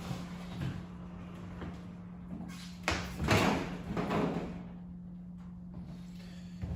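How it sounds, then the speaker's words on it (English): Timber Centor bi-fold doors slide and fold, a soft rolling rumble with a few light knocks and thuds at close range in a quiet showroom with a faint steady hum. "Centor bifolds, they run very smoothly."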